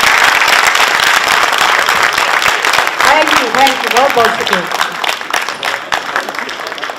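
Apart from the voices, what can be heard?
audience applause for the drama actors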